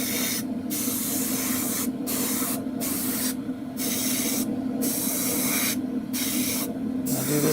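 Airbrush spraying a misty coat of paint on the cockpit parts of a 1/48 scale F-14D model kit in steady hissing bursts, with several brief pauses between passes, close and loud throughout.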